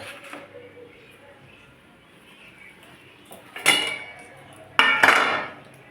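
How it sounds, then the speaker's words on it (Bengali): Metal lids lifted off cooking pots of fish curry in a home kitchen: two distinct clattering clanks a second apart over a quiet room hum. "আগে ঢাকনাগুলো খুলে নিই"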